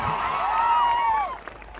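Crowd at a political rally speech in Dediapada, Gujarat, breaking into a short burst of cheering and applause with a few whoops, loud at first and fading within two seconds.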